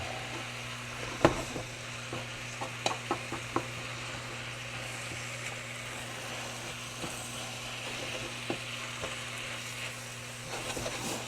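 Vegetables stirred and frying in a pan for a vegan pulled "pork" dish, a steady low sizzle with a few light clinks of the spoon scattered throughout, fairly quiet and with no talking.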